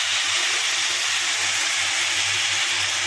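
Water poured into a hot pan of frying chicken for a white chicken stew, a loud continuous steamy hiss and sizzle filling the whole moment close up, with no talking.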